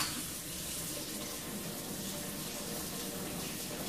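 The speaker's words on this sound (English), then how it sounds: "this just gets rinsed in water" Running water from a tap rinsing a paintbrush used for leather paint, a steady continuous splash and hiss at moderate level with no talking.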